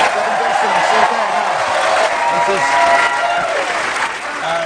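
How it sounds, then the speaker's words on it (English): Studio audience applause on the UK improv comedy show Whose Line Is It Anyway, a loud sustained roar of clapping, with a voice speaking over it. "this is very generous applause"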